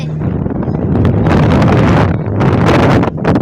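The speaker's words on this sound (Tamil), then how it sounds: "காத்து பயங்கரமா இருக்கு." Strong wind buffets the microphone during a boat ride on a lake in Munnar, a loud, rough, gusting roar that surges and dips in waves, with no voices heard.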